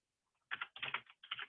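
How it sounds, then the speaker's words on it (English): Keys pressed on a computer keyboard, including the escape key, in three quick close clusters of crisp clicks with silence before and between them. "So you have to press escape on your keyboard."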